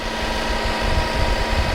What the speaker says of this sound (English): Let the tractor work a little bit.